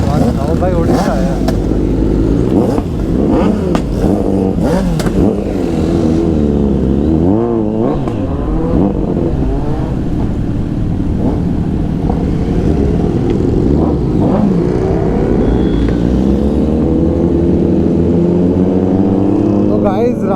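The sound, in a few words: Kawasaki Z900 superbike with full system exhaust revving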